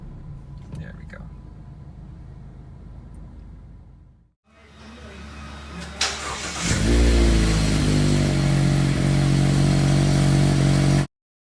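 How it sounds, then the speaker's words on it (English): A 2018 Mazda MX-5 Miata RF roadster is push-button started after a quiet pause with a little talk. The engine catches with a brief rev, then settles into a loud, steady idle close by, which cuts off abruptly. "to start the vehicle, just put your foot on the brake and push the button to start"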